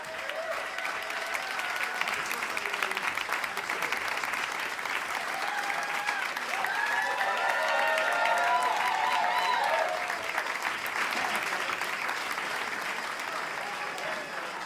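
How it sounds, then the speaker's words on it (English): A room full of people rises in a standing ovation at an opening night, sustained applause and crowd noise filling the space steadily for the whole stretch, with a few voices and whoops rising over the clapping midway. "a profound standing ovation from everyone in the room"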